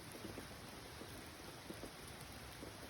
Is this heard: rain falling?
yes